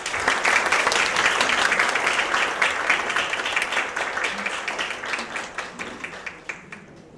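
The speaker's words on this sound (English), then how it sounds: "Please give him a big round of applause" At a conference opening ceremony on citizenship education, the audience gives a welcoming round of applause, thick, continuous clapping that starts strong and gradually thins to scattered claps as it fades.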